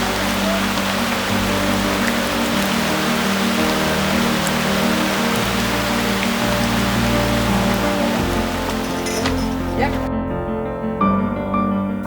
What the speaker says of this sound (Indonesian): Jadi kalau hujan seperti ini, terpaksa kegiatan dihentikan dan menunggu sampai matahari muncul kembali.